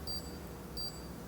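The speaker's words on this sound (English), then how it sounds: "this one has been beeping all day long." A Frigidaire four-door Flex Zone refrigerator with a fault sounds two short, thin, high electronic beeps a little under a second apart over a low background hum.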